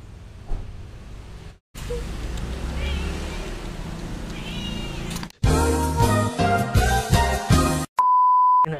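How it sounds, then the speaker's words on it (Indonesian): An orange cat meows several times amid loud, busy roadside noise during a motorbike trip in Bali, with abrupt cuts and a steady electronic beep tone at the end. "Kamu kucing. Kucing oren."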